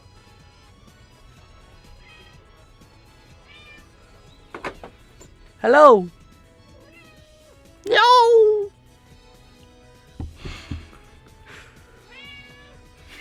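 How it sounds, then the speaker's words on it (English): A pet cat meows twice up close in an indoor room, two loud drawn-out rising-and-falling cries a couple of seconds apart, with a person speaking briefly to it between quieter moments. "Oh, and my cat is here."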